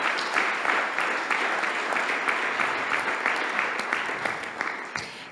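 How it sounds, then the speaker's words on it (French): An audience at a housing awards ceremony applauds collectively, steady loud clapping with a few sharper individual claps, fading slightly toward the end. "je pense qu'on pourrait les saluer collectivement en les applaudissant"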